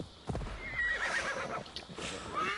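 A horse ridden in Assassin's Creed Valhalla: a neigh and whinny over steady clip-clop hooves, close and fairly clear with no talk.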